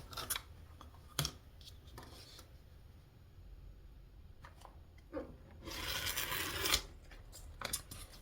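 Thick foam core being sliced with a crafting rotary cutter, giving scattered short scraping cuts and a longer dense rasping pass near the end, close and fairly quiet with no talk.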